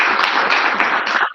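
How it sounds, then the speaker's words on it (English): Audience applause at a tech camp kickoff event, a loud, close burst of dense clapping that lasts just over a second and cuts off abruptly. "Please, a lot of applause for us."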